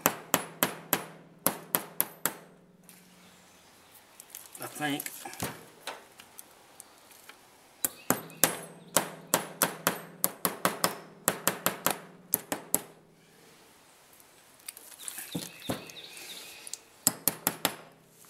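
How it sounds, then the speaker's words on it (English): Metal hammer strikes drive a boot part onto a VW CV joint, coming in sharp, ringing bursts of rapid blows with short pauses between them. A brief voice speaks in the middle. "now we're going to hammer it down"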